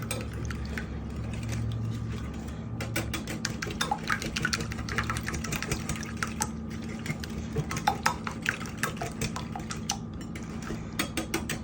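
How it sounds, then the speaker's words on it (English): A whisk clatters rapidly against a big bowl while heavy whipping cream is beaten into eggs, giving a steady metallic scraping and tapping rhythm up close, with a low hum underneath and no talking. "we're gonna whisk that heavy whipping cream into those eggs"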